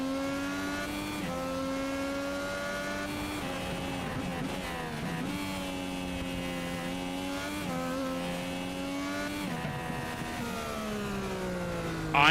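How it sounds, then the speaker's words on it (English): An Indycar in a racing video game holds a high, buzzing engine note, repeatedly bouncing off the rev limiter. The pitch stutters and dips between shifts over a steady, loud drone lasting several seconds. "You saw how much that car was pinging off the rev limiter"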